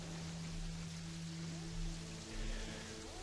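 Steady rain in the video game Terraria, a dense continuous hiss of falling water with a low hum and soft tonal game sounds underneath, with no talk over it.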